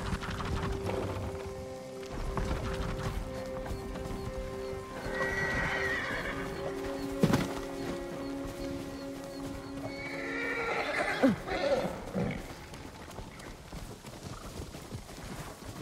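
Horses whinny and neigh repeatedly over a steady clip-clop of galloping hooves in the video game Ghost of Tsushima, with a low ambient drone underneath throughout.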